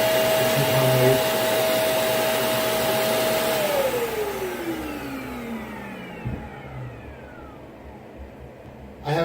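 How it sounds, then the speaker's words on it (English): A vacuum cleaner being checked during maintenance hums loudly and steadily, then its motor winds down in pitch over a few seconds to near silence before a brief click at the end. "Turn the power on."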